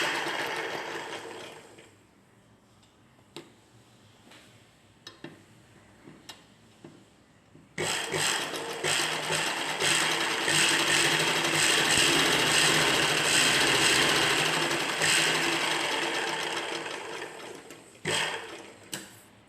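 A sewing machine stitches down one side of a blouse's side patch, layered with lining cloth. Sparse ticks and clicks come first, then a loud, steady run of stitching lasts about ten seconds before stopping with a few final clicks.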